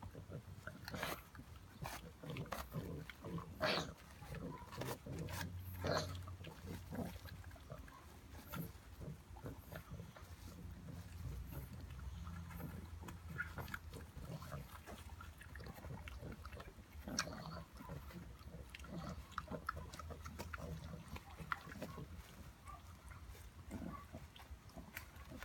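Two English bulldog puppies chewing and gnawing a raw chicken drumstick, with steady wet crunching, snuffling and grunting up close that continues without a break.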